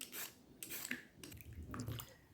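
Peeled potatoes are being washed by hand in a bowl of cold water, giving faint splashing, swishing and dripping in uneven bursts, close by and quiet, with no talking.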